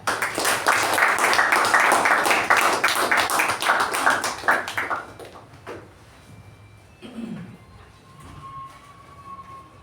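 Toastmasters club meeting audience gives a loud, dense round of applause that fills the room, then fades out by the midpoint, leaving quieter room sounds and a brief voice.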